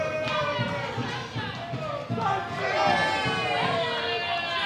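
A wrestling crowd in Stevenage roars and cheers during a live match, with many voices shouting and chanting in waves and surging louder toward the end.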